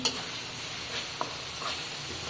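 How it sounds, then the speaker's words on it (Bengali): Onion, garlic and green chili frying in a pan in a village kitchen, a quiet steady sizzle with a few soft stirring scrapes and taps. "পেঁয়াজ রসুন কাঁচা ঝাল ভাইজে নিচ্ছি"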